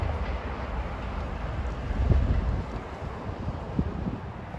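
A Staten Island Railway train rumbles past outdoors, a steady low roar of wheels and cars with wind buffeting the microphone and a couple of louder clanks near the middle and end.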